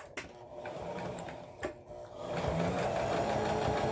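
A sewing machine back-stitching quilt blocks, with pins set in the fabric: a close, steady mechanical whir that hesitates briefly, then settles into a louder continuous run of rapid stitching.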